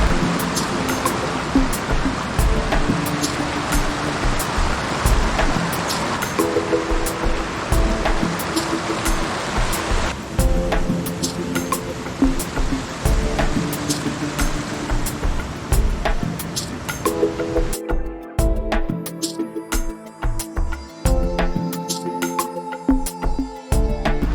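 River water diverted toward a storage tank in the Mujpathri meadows near Doodhpathri, Kashmir, rushes in a steady, loud, continuous roar that fills the whole stretch without any voices.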